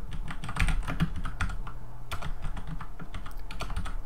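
Keys clatter steadily on a computer keyboard during web page coding work, a close, dense run of clicks and taps lasting throughout with no talking.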